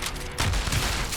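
Pump shotgun fired in a cheap first-person shooter game, one loud close blast with a sharp broadband crack and lingering boom amid steady game noise.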